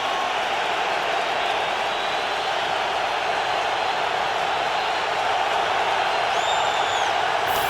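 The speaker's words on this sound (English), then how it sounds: "listen to the crowd on 3rd and 8" A football stadium crowd at a Colts at Jets NFL game in 2006 roars on third down, a dense, continuous broadband din that holds steady and loud throughout with no clear voices.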